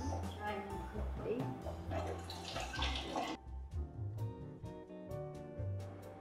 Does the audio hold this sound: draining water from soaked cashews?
yes